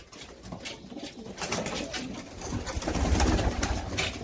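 Young pigeons coo steadily while crowded into boxes, amid a busy, rustling background, with soft repeated calls overlapping and building slightly louder toward the end.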